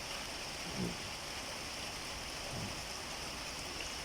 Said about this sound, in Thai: นี่ครับเห็นไหมน้ำฝนลงแล้ว